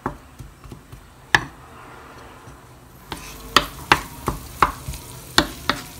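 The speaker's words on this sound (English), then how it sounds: "Let's wait till the onion is golden brown." Onion frying in a pan for adobo: a quiet sizzle with a few taps at first, then louder, with a series of sharp utensil clicks and scrapes against the pan at an irregular rhythm.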